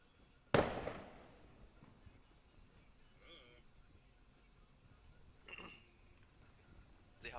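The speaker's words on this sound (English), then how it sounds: "Shooting a flare." A flare fired in a naval combat video game lands as one sharp, loud burst that decays over about half a second, followed later by fainter crackles, with speech elsewhere in the scene.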